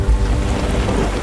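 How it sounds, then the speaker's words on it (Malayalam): Heavy rain pours over a stream at night with a deep, rumbling thunderstorm, a loud continuous wash of low roar and hiss with no voices. "ഒരു വലിയ രാത്രിയിൽ അരുവിക്കരയിൽ ഭയങ്കരമായി മഴ പെയ്തു. ഇടിമിന്നലും കാറ്റും കാരണം"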